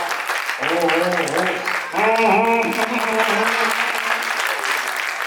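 Enthusiastic applause from the audience at a Hindi comic poetry show, a continuous wash of clapping beneath a strong sustained voice that rises and falls over it for the whole stretch.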